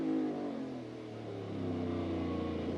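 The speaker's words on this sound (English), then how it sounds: "this car does not have first gear, so you hear it really luggy up off the corner" A NASCAR Cup car with no first gear lugs out of a slow corner at a road-course Grand Prix, its engine a deep, strained drone building in revs, loud and steady without talk.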